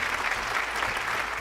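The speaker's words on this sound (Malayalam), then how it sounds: "മെറിന് നല്ലൊരു കൈയടി." A studio audience at a game show applauds a contestant with steady, dense clapping, loud and unbroken throughout the brief moment.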